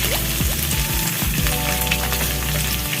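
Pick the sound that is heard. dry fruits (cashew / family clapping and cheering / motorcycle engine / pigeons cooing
dry fruits (cashew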